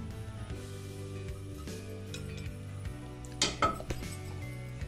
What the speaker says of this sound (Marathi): आता हे सगळं व्यवस्थित मिक्स करून घ्यायचंय.